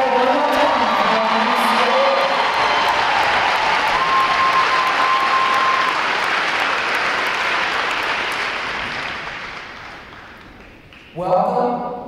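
A large audience at a U.S. Navy Recruit Training Command graduation ceremony applauds and cheers in a hall, a loud, sustained roar of clapping that slowly fades, followed by a voice starting to speak at the end.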